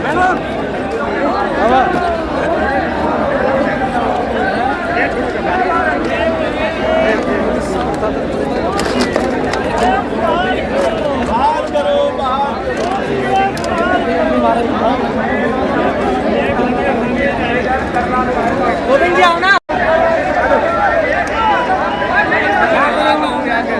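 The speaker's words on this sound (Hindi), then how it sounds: "अभी देखिए कितनी भीड़ आती है" A large, dense crowd chatters and murmurs continuously at an outdoor pension rally on Ramlila Maidan in Delhi. The babble of many voices stays steady and loud throughout, with no single speaker standing out.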